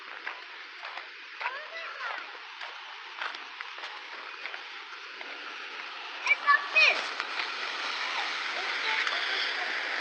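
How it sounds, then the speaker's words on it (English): Overflow water from a lake pours into a small stream, making a continuous hiss and splash of running water at moderate distance. A voice talks over it, and a few louder splashes come near the end. "that's the overflow. And you can see it goes down there into a little stream."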